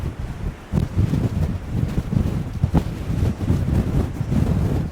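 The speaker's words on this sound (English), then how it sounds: "It's too windy to go out on there, I think." Strong wind on the Shetland coast, where the sea runs into a narrow passage, buffets the microphone in gusty, low rumbling bursts, constant and loud throughout with no voices.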